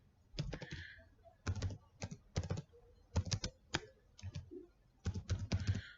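A name typed on a computer keyboard in quick clustered bursts of clicky keystrokes, close and moderately loud, separated by short pauses.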